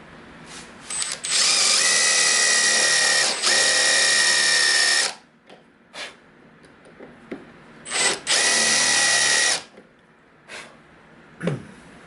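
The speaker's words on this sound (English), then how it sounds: "I'm building a recess for the top of this plastic insert. So all I want to do is drill down" A drill bores a recess into wood for a plastic insert in two long, loud bursts, each several seconds long, with short quiet pauses and a few small clicks and knocks between them.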